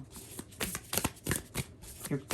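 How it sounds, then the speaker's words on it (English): Tarot cards shuffled by hand, soft close riffling flutters in a few quick bursts, with quiet speech around them. "I'm going to shuffle some more."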